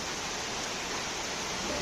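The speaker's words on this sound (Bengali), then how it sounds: "কিছুক্ষণ পর আচমকা বৃষ্টি শুরু হয়ে গেল" A sudden rain shower falls outdoors, giving a dense, even hiss of steady downpour that fills the whole moment without pause or voices.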